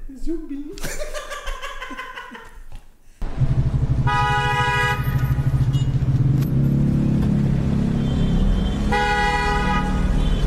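Car horns honking at a traffic light turning green, a series of short and longer toots in city traffic, with people talking and laughing over them.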